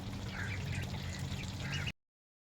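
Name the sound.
ducks quacking and playing in water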